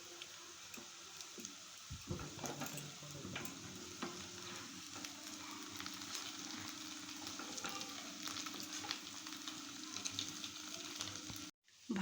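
Chire-date pithas made from flattened rice and date jaggery frying in oil in a pan over a low gas flame, giving a continuous close sizzle with a scrape or stir near the start and a brief cut at the end.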